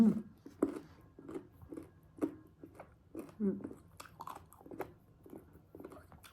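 Crunchy sour mango chewed close to the mic, a steady run of crisp bites and crunches roughly every half second, with no talking.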